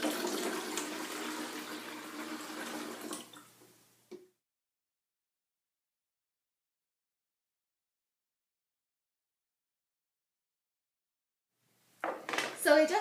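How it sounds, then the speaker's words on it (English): Water splashes into a pitcher to rinse out leftover flavored lemonade, a steady pouring rush for about four seconds, then silence before a brief clatter near the end. "Now that this is filled with water, we will dump it in the pitcher as it will rinse out all the leftover flavored lemonade"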